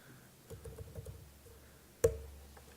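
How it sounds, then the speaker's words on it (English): A quick burst of keyboard typing, a rapid patter of key clicks followed by one sharp, louder keystroke, close and otherwise quiet. "This is one of the things where it's a cool typing sound effect."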